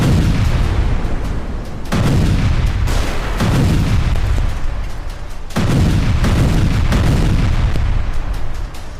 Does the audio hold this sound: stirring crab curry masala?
no